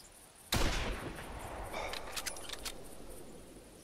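A single loud shot from a 7.62 classic bolt-action rifle in theHunter Classic, fired from an old barn, cracks sharply and trails off into a long fading echo with faint clinks.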